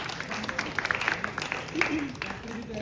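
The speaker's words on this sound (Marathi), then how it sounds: "तुमच्यासाठी स्वतःच सगळ्यांनी टाळ्या वाजवा" An audience applauds at a cooking competition, scattered uneven claps building to a moderate patter, with voices speaking over them.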